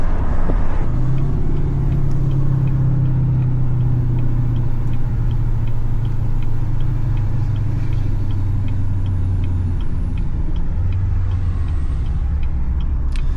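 Tuned and deleted L5P Duramax diesel pickup accelerating hard, a loud continuous low engine roar that holds steady in the power band with a brief dip near the end, heard from inside the cab with no talking.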